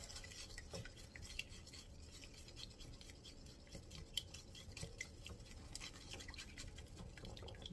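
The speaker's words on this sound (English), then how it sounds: "break up your egg" An egg being beaten in a bowl for Hungarian nokedli dough, a quiet, rapid scraping and clicking of utensil against the bowl, steady and close with no talking.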